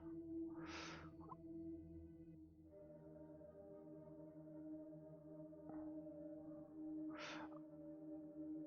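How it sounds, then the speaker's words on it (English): Cats yowl before a fight: long, low, wavering moans that hold steady, broken by a couple of sharper hissing bursts, all faint and somewhat distant. "The cats are about to fight again."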